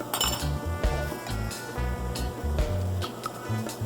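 Metal clinks and clatters as a lid is set back onto a cooking pot of steaming sticky rice, several sharp knocks and rattles in quick succession, close and fairly loud.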